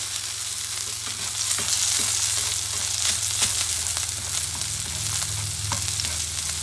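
Tuna steak searing in a hot cast-iron pan, a loud continuous sizzle and spatter with small crackling pops throughout, no talking.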